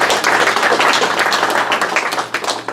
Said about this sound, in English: So let's give Michael Davis a round of applause.